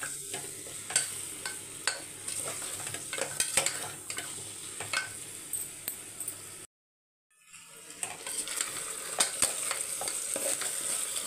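Turmeric, ginger, garlic and shallots sauté in a pan, giving a steady close sizzle with scraping stirs and utensil taps; the sound cuts out briefly partway through, then the sizzling resumes.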